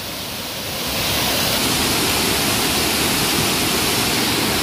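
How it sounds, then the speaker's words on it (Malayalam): A waterfall beside a mist-covered lake roars in a steady, dense wash of noise, swelling louder after the first second and then holding constant, with no voices. "ഇതാണ് വെള്ളച്ചാട്ടം കേട്ടോ."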